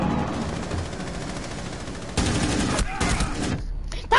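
Rapid gunfire in a Rainbow Six Siege match, bursts of automatic shots crackling over game ambience, loud and close, with a sharp louder burst near the end.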